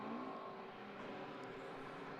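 Modified Ford race cars, Fiestas and Focuses, pulling away behind the safety car at Oulton Park during a BRSCC race: a steady, blended engine drone with rising revs from several cars, continuous and moderately distant, with no talk.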